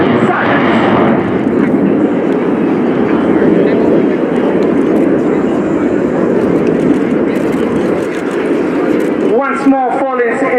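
A Frecce Tricolori solo jet roars through its flying display at RIAT 2018, a loud sustained engine rumble and whoosh filling the air, with a commentator talking over it and the noise easing toward the end.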